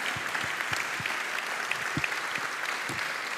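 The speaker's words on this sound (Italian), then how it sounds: "facciamo loro un grande applauso" An audience applauds youth football teams of Sassuolo Calcio at an awards event, a brisk, even patter of many clapping hands with a few louder nearby claps, steady across the whole stretch.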